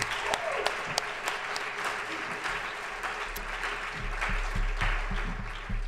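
Graduation audience at a JCU ceremony gives a round of applause for a graduate speaker, a full, sustained wash of many hands clapping with a few sharper near claps and a low murmur beneath.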